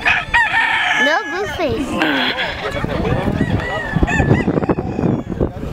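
Chickens crow and cluck at a poultry show in Hilmar, California, with a rooster's crow rising clearly near the start amid steady clucking and barnyard clatter, while people talk throughout.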